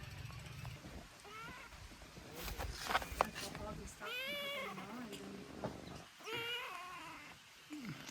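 A kitten at a hot spring gives several high, wavering meows spread across the moment, close by, while people talk excitedly around it.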